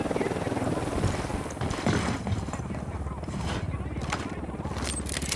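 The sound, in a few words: helicopter flying overhead in video game Ghost Recon Wildlands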